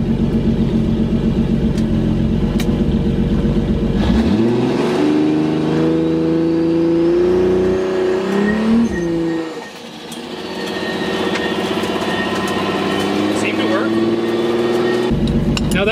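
An 800 hp Toyota Supra accelerates hard on a street, its engine rising in a loud, sustained pull with a brief dip near the end before building again, close and dominant throughout.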